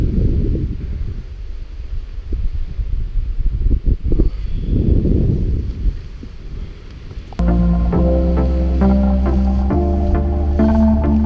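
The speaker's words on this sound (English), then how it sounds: "The wind is picking up." Wind gusts and rushes in broadband roars over a foggy mountain hillside on Mount Cannon for about seven seconds, loud and close on the microphone, before music takes over.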